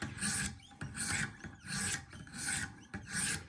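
Rhythmic rasping strokes of a Spyderco Yojumbo wharncliffe knife blade drawn across Wicked Edge sharpening stones, five even back-and-forth passes, close and steady with no talk.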